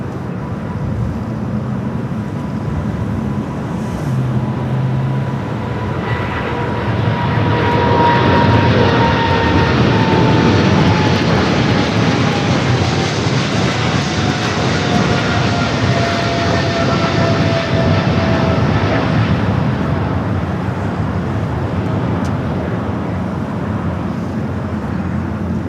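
An Eva Air Cargo Boeing 777 freighter's jet engines at LAX build into a loud roar that peaks mid-clip and then fades, with a high whining engine tone gliding downward as the freighter rolls past.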